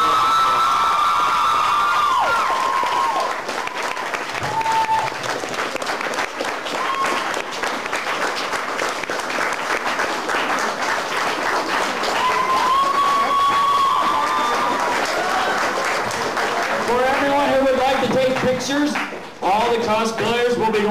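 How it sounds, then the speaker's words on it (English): An anime convention audience breaks into sustained applause, cheering and whoops for cosplay contestants, a dense crowd roar that fills the room for about twenty seconds, with a voice speaking over the noise near the end. "Let's put a big round of applause for everybody."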